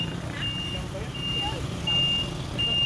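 A vehicle's reversing alarm beeps at a steady, evenly spaced rhythm over low traffic and engine rumble outdoors, with faint background voices.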